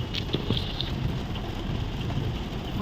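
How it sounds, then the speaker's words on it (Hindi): Heavy rain falls steadily in Vrindavan with a close, textured patter and a few sharper drops, at moderate loudness and with no one speaking. "और भाई क्या मस्त बारिश आ रही है, ये देखो"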